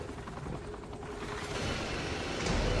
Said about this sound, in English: this helicopter's got guns on it, so we just shoot him from up here